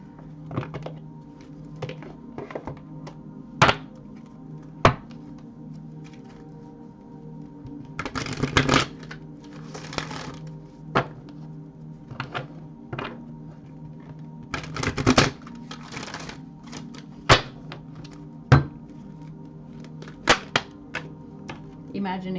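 Oracle cards shuffled in repeated bursts of crisp riffling and slapping, with sharp taps between, close and fairly loud over a faint background hum.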